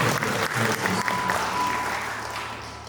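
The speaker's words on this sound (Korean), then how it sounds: "네, 칭찬 박수 부탁드리겠습니다." A room full of wedding guests in a wedding hall clapping steadily, a dense burst of applause that gradually fades.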